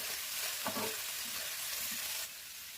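Vegetables and potatoes sizzle loudly in a hot pan over high heat while a utensil scrapes and stirs them a few times, the frying hiss continuing steadily.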